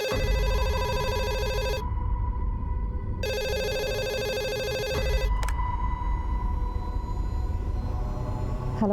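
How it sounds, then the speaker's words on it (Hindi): A telephone rings loudly and alone in a repeating electronic pattern: two long bursts of ringing separated by a short pause, then a brief click, with a steady background hum continuing afterward. "दिन रात फोन बजते रहता है उसका"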